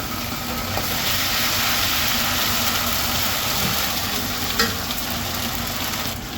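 Onions frying in a pan with ginger, garlic and green chili paste give a steady close sizzle, with faint stirring and a brief clink near the end.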